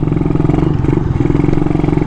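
Motorcycle engine, long unused and being started again, running loud and close as a rapid, even, pulsing low rumble with no pauses.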